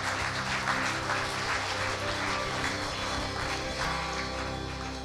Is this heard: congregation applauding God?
yes